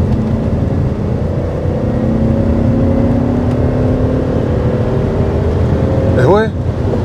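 A BMW 730i E38 with a V8 engine and manual gearbox rumbles steadily while driving, a low continuous drone heard from inside the car, with a brief squeal near the end.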